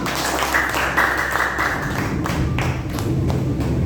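Classroom applause from students after group presentations, a steady close burst of many hands clapping that thins toward the end, with no talking over it.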